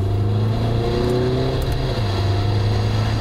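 Inside a Mercedes-Benz GLB with a 2.0-litre turbo engine under hard acceleration, a loud, steady engine drone climbs in pitch as the revs rise, dips briefly at a dual-clutch gear change, then pulls on.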